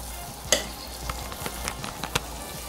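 Creamy leeks stirred in a pan, with soft scraping and a few louder clinks of a utensil against the pan over a faint sizzle, close and alone.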